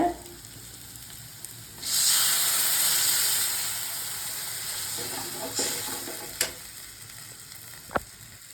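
A liquid mixture poured into a hot pan for a traditional ginger curry sets off a sudden loud sizzle and hiss that holds steadily, then eases, with a few sharp clinks of a utensil near the end.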